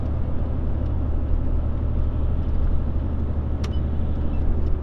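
A car engine pulling at speed, a loud, steady low rumble of engine and road noise heard from inside the vehicle, with no clear change in pitch.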